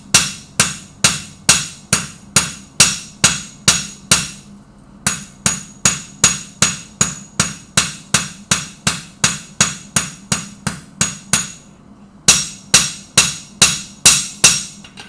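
A blacksmith's hammer strikes hot metal on an anvil in a fast, even rhythm of ringing blows, about two per second, close and loud, with two brief pauses between bursts of strikes during a forging demonstration.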